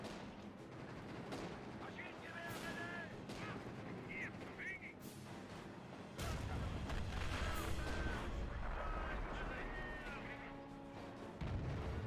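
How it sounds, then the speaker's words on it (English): An anti-tank gun fires in a video game battle, with several heavy booms and sharp shots spread across a continuous rumble of combat noise, partly under muffled voices. "My little anti-tank gun is trying to help you."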